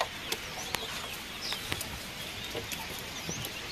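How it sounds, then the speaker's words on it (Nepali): Chickens and red roosters clucking in a flock, heard as scattered soft, brief clucks and calls at a distance over a steady background hiss, fairly faint throughout. "रातो रातो भाले छ, त्यहाँ छ एउटा रातो भाले"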